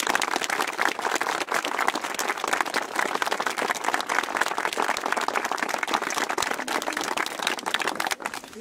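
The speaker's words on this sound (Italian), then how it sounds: "Facciamo un applauso." Sustained applause and clapping from a crowd outdoors after a blessing at the inauguration of a Sacred Heart of Jesus shrine, steady and dense throughout, tapering at the very end.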